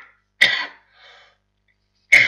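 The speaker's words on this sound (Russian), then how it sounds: "Ой, этот кашель ужасный." Two sharp, loud coughing bursts from a single person, separated by a pause with a faint throaty rasp, close to the microphone.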